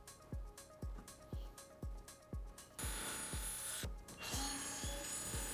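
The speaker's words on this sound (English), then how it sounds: "We're going to go ahead and remove these four screws off the stem so we can put our handlebars on." Screws are removed from an ebike stem with a tool, a series of regular thumping clicks at a steady pace, joined partway through by a brief burst of whirring, close and fairly quiet with no talking.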